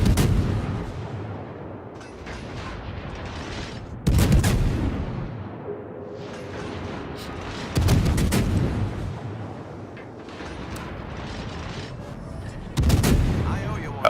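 Heavy naval guns of the cruiser Worcester in a naval battle game boom in four separate loud salvos spaced a few seconds apart, each followed by a rumbling decay, with a low ambient rumble in between.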